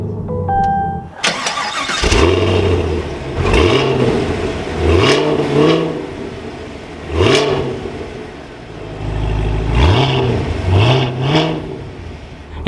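A 2023 Cadillac CT5-V Blackwing fires up with a sharp cranking catch and bark, then settles into a deep idle broken by a series of loud, quick throttle blips repeating every second or two.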